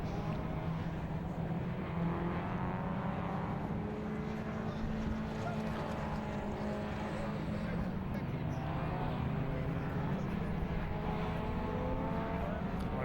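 Classic touring cars, pre-1993 and pre-2003 saloons such as a Honda Civic and a BMW, racing at Silverstone, their engines droning steadily at a distance throughout, with rising and falling pitch as cars pass, beneath continuous commentary.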